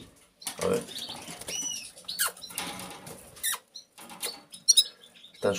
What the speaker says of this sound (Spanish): Están súper grandes estos pájaros ya.